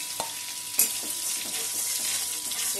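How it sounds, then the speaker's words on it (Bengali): Prawns frying in hot oil give a steady, close sizzling hiss throughout, with a couple of sharp utensil clicks near the start. "মাছগুলো ভালো করে ভেজে নিই।"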